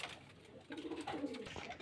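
Young pigeons at a home loft where birds are kept for sale give soft low coos, close by and repeated in a loose rhythm, with faint background noise underneath.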